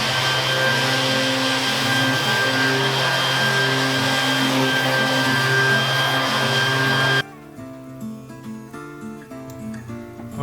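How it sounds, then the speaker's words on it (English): A belt sander and an oscillating disc sander smooth a wooden tabletop with a loud, steady, close-up whirring roar for about seven seconds. It cuts off abruptly, leaving a much quieter background. "I'm just using my belt sander and then my rigid oscillating disc sander in order to get a nice smooth surface on my tabletop"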